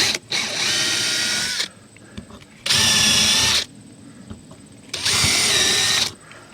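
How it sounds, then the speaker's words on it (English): A power drill bores three holes through a wooden siding board, three loud, steady whirring bursts of about a second each, separated by short quiet pauses with small handling noises. "drill my 3 holes through my board"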